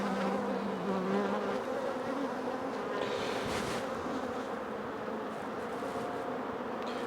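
Dense, steady buzzing of many honeybees around an open hive disturbed by smoker puffs, loud and close, a continuous swarm drone with no talk.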